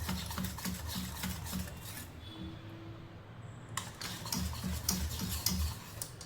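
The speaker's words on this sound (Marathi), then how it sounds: "छानपैकी फेटून घ्यायचं आहे आपल्याला आटा" Pancake batter for strawberry pancakes being whisked in a bowl, with quick rhythmic taps and scrapes in steady bursts, a short pause partway through, then more whisking, close by and fairly quiet.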